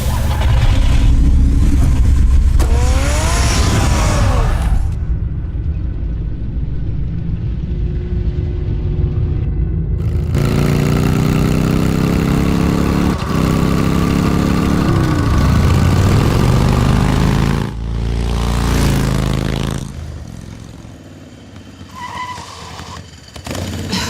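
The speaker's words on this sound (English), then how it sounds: "Get the car ready, Alfred." A car engine in a Batman video game starts and revs in loud surges, roaring and dropping back, then easing toward the end with no talking.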